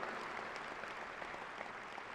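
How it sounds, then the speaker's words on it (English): Graduates and guests at a university fall commencement ceremony applaud, a soft, distant, steady patter of many hands spread across a large hall, with no talking over it. "Let's give them a big round of applause for everybody across the board."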